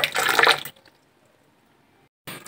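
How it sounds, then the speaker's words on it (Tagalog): Coffee is poured into a cup while breakfast is made at home, heard as a short close burst of splashing liquid that stops abruptly and is followed by near silence. "Nagsalin lang natin yung cup. Simbra po tayo ng kape."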